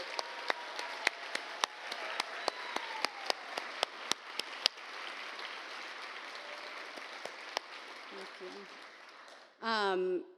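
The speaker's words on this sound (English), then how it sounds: "So can we get a round of applause for our Corps members, please?" Scattered, fairly quiet applause for corps members at an EarthCorps reunion event, with sharp individual claps in a small room thinning out before a voice begins speaking.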